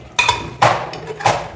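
Chicken and bottle gourd are mixed in a cooker: three sharp, close metallic clanks of a ladle against the pot with short scraping gaps between them.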